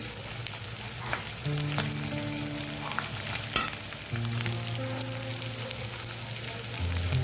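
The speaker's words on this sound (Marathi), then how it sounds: "हे असे छान डिंक तुपात तळून घ्यायचे आणि हे असे फुलतात।" Edible gum (dink) frying in hot ghee gives a steady, close sizzle and crackle with a soft stir or clink partway through, and no voices.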